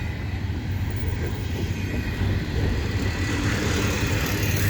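A CP double-stack freight train rolls past Dorval station, a continuous low rumble and rail roar that holds steady and swells slightly in the second half, with no talking.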